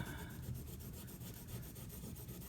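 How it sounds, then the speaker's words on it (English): A Benchmade Mini Griptilian knife with a D2 steel blade is stroked along a diamond sharpening stone, giving a quiet, rhythmic scraping rasp of repeated short strokes with no talking. "I'm going to place my finger directly over that spot and just sharpen and concentrate on the back of the edge"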